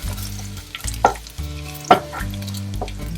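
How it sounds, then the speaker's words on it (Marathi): Garlic sautéing in a pan, a soft sizzle broken by spatula scrapes and two sharp clanks, close and without talk, over a low steady hum. "छान लसूण पण परतला गेलाय"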